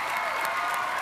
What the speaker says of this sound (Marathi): खरं भारत गणेशपुरे यांच्यासाठी टाळ्या झाल्या पाहिजेत